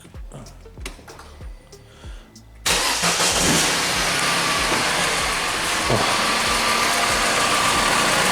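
A Peugeot 5008 engine cranks with a few quick starter pulses, catches loudly and settles into a steady, close, even idle that runs on to the end.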